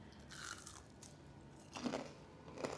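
Bites into crispy fried cauliflower coated in a seasoned batter, giving a couple of close, crunchy bites with a pause between them and no talking.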